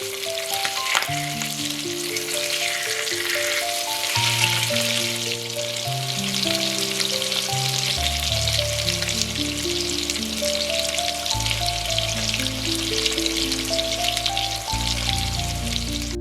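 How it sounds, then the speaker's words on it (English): A salmon fillet sizzles skin-side down in a hot pan, a steady, dense crackle that continues under background music the whole time. "Cook for 3 to 4 minutes until the skin is crispy, then flip and cook another 3 minutes until just done."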